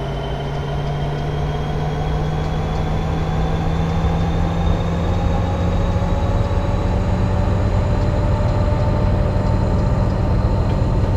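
A BNSF SD75 diesel locomotive revs up in Train Simulator 2016, its loud engine drone climbing steadily in pitch over several seconds with a continuous rumbling rail-yard bed and no voices.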